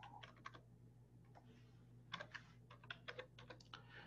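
Quiet, close clicking of keys on a computer keyboard as an email address is typed, in short irregular bursts over a low steady hum.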